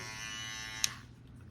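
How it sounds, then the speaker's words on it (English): Suprent electric hair trimmer buzzing steadily up close for under a second, then switching off with a small click as the hum fades out. "So that is the trimmer."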